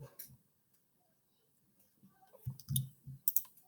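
A computer mouse gives a few quiet, crisp clicks in a silent room, with one click early and a quick cluster of clicks near the end.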